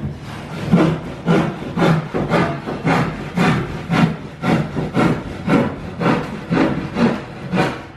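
Hand saw cutting through wood in steady back-and-forth strokes, about a dozen rhythmic rasping pulls, close and fairly loud, with no talking over it.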